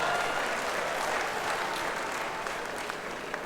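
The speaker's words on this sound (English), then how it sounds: "More na clap if na the clap." A comedy-show audience in Lagos claps steadily, a dense wash of many hands that carries through the whole stretch and thins a little toward the end, with a few sharper claps standing out.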